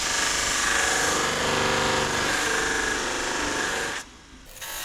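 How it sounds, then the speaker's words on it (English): A buffing wheel whirs steadily against a poplar candy dish with a resin inlay while wax is applied, a continuous loud grinding hum that cuts out abruptly near the end. "watching me use the buffer is probably about as exciting as sanding"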